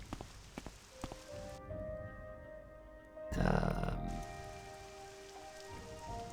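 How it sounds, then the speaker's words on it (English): Rain patters across the world of the game Morrowind, a soft steady hiss on surfaces that swells into a heavier burst midway, with occasional faint thuds beneath. "And it starts raining."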